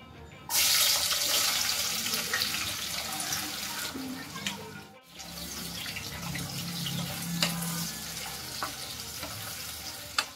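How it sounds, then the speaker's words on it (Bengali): Onions drop into hot mustard oil with a sudden loud sizzle that settles into steady frying and scattered clinks, briefly dipping midway, with faint voice in the background. "তেল গরম হয়ে গেছে, এবার আমি পেঁয়াজগুলোকে ভেজে নেব।"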